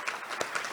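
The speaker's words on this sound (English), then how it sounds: "let's give it a round of applause for all of the award recipients again tonight" A brief burst of applause for the award recipients at a first responder valor awards ceremony, scattered claps from an audience, close and moderately loud.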